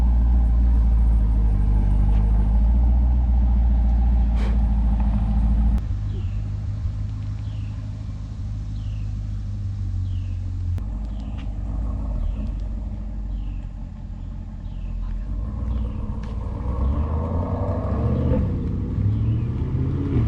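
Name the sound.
sports car driving away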